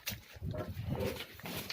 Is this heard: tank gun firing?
no